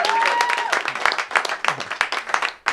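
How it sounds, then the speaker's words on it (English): A comedy club audience applauds a comedian, loud continuous clapping with cheers and voices rising over it, sustained throughout. "Clap it up for him one more time."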